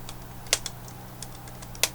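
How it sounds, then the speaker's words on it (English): A screwdriver turned backwards on a screw inside an HP 17-g121wm laptop gives two small, sharp clicks about a second apart, with a few fainter ticks between, all quiet and close against a low steady hum. "The clicking is every time the threads line up and then pass each other."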